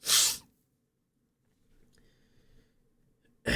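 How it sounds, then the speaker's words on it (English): A single loud, sharp sneeze bursts out close to the mic from a person whose sneezing has become painful, followed by near-silence, faint rustling and a brief tonal blip before another burst at the very end. "sneezing is starting to hurt"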